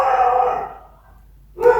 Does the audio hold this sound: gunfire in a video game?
no